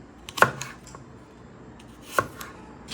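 A knife chops butterpple fruit into chunks on a board, with two distinct close thuds and a few lighter taps in an otherwise quiet room.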